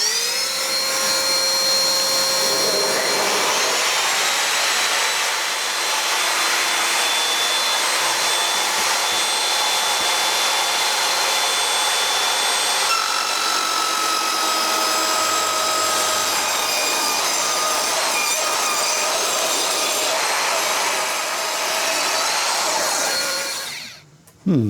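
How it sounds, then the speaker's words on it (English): A woodworking machine with dust extraction running, trimming 5 millimetres off an edge during a French home improvement upcycling project, a loud steady whine and rushing hiss for about twenty-four seconds before it cuts off abruptly. "this machine does have reasonably good dust extraction, so we'll turn that on."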